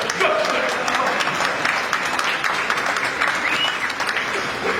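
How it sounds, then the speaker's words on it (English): A crowd at the Peabody Hotel in Memphis gives a quick round of applause, steady loud clapping with some cheering voices mixed through it for several seconds. "please give them a quick round of applause"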